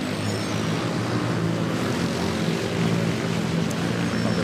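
Xiamen Airlines airliner in Beijing Daxing livery at Manila airport, heard as a loud, steady engine roar with a low tonal hum that holds constant throughout, with no talking.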